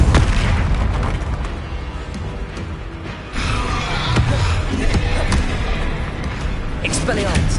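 A Depulso force spell cast in the Hogwarts Legacy video game bursts out as a loud boomy blast with a dense rumbling low end, followed by continuing in-game impact and action noise that stays busy and close.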